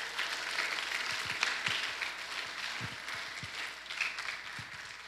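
Scattered, fairly faint clapping from an audience after a children's Christmas play at a church, a soft uneven patter with a few distinct individual claps and no voices.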